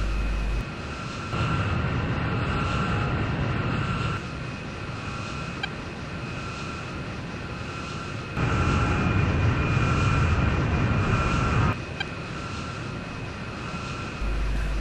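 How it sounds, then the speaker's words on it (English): Fuel transfers during A-10A air-to-air refuelling, heard as a steady rushing hum inside the cockpit over the constant drone of aircraft engines, shifting in level in several blocks without any voices. "You will hear fuel start to transfer."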